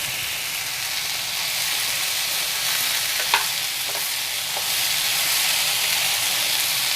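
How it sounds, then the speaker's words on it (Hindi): Mixed vegetables fry in a pan, giving a continuous bright sizzle and hiss, with a few faint clinks of stirring partway through and no voices. "ये सब्ज़ी फ्राई हो गया"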